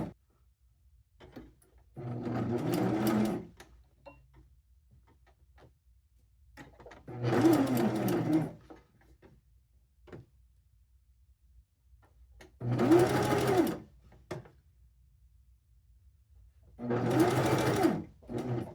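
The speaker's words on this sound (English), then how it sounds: "What I'm doing right now is hemming the pocket." Four bursts of a sewing machine running at steady speed while hemming a cycling bib pocket, each lasting a second or two, separated by quiet pauses.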